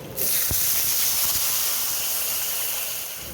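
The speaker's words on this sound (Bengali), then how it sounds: "এবারে দিয়ে দেবো জল।" Water hits hot mustard oil in a wok already seasoned with green chili, black cumin and turmeric, setting off a sudden loud, steady hiss that holds for about three seconds and fades slightly at the end, with no talking.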